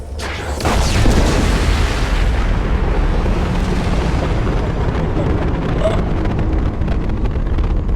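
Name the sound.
explosion in the video game Mass Effect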